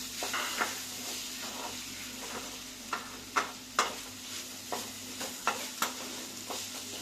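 A spoon stirs sweet corn paste frying in a pan for veg corn soup, making a low steady sizzle broken by a series of sharp scraping clicks against the pan, close and without talk.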